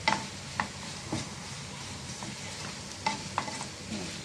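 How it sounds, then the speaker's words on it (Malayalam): Liver fry masala with pepper powder being stirred in a hot pan: a soft continuous sizzle under irregular spoon scrapes and taps against the pan, close by with no talking. "ഇതൊന്നൊന്ന് ചെറിയ ഇളക്കി എടുക്കാം നമുക്ക്"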